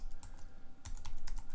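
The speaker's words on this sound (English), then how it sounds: "So here we're going to type apply" Quick bursts of typing on a computer keyboard, close and fairly quiet, a short run of keystrokes with a brief pause partway through.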